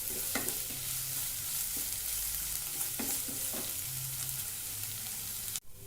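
Onion with ginger-garlic paste sautéing in a pan, a steady close sizzle with occasional scraping stirs and light taps, ending in a brief knock.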